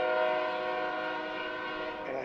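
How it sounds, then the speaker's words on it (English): A freight train pulled by three locomotives on the Tehachapi Loop near Tehachapi, between Bakersfield and Mojave, sounds a loud sustained multi-tone horn chord that holds steadily, close and dominant. "This particular train's got three locomotives"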